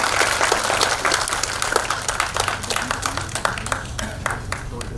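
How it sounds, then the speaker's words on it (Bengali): An audience at an annual cultural program claps in congratulation, a stretch of brisk, fairly close individual claps that thins toward the end. "একবার সবাই হাততালি দিয়ে ওকে অভিনন্দন দিল।"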